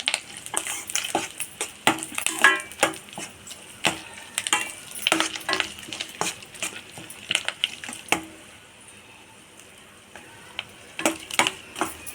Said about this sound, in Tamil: மீன் முட்டையை போட்டு நல்லா கலந்து விட்டுக்கோங்க.